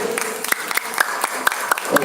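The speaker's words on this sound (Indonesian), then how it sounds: "Tepuk tangan untuk regu C." Scattered clapping from students at a school quiz competition in Pamekasan, Madura, with sharp irregular claps and a tonal beep mixed in over a noisy room.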